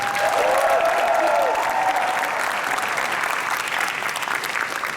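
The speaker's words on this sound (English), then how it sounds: "One more round of applause for that." Audience applause fills the hall at the Otakon 2017 opening ceremony, a dense, steady clapping wash that runs loud for the full stretch, with a brief whistle-like tone rising above it early on.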